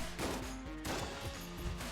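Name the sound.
explosion in the video game Enter the Gungeon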